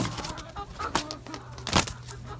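Chickens clucking in their coop at night as they settle in, several close, irregular clucks and short calls with soft shuffling between them.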